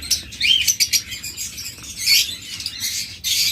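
Pet birds such as lovebirds, cockatiels and budgerigars in a bird shop chirp and squawk rapidly in overlapping bursts, with occasional wing flutter, loud and close.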